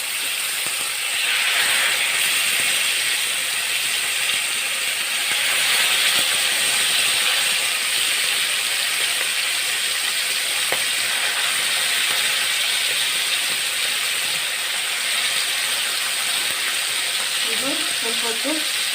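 Fish frying in coconut oil in a pan for a Mangalore-style masala fry, a steady loud sizzle and hiss that runs the whole time, with a few faint clinks near the end.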